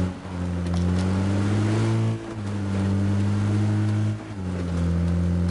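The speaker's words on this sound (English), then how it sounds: "I just heard a car come by somewhere." Vehicle engine in the game PUBG, a steady harmonic drone whose pitch shifts with brief dips as it passes, loud and continuous with no talk over it.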